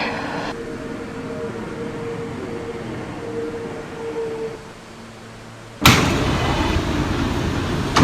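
An NYC subway R179 train on the J local rumbles along the Nassau Street line with a steady rolling drone and a whining tone, then the sound jumps louder as a door opens or the car moves into a noisier stretch.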